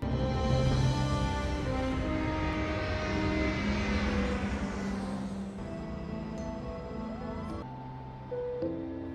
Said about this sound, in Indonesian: Namiko dan Casey terbang ke Amerika.